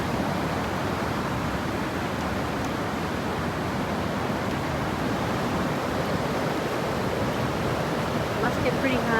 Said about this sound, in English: French Broad River. It's flowing fast here.